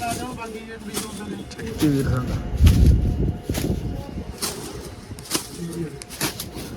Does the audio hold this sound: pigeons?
yes